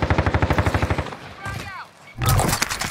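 Automatic gunfire in a first-person shooter's Iron Trials mode, a rapid, even burst of loud shots. A brief pause follows, then another dense burst, with a voice speaking over the fighting.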